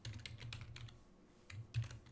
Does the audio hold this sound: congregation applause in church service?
no